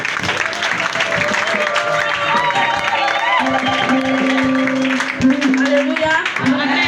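A church congregation claps and cheers in lively applause while a voice speaks and sings over it, with a steady sustained tone joining midway through.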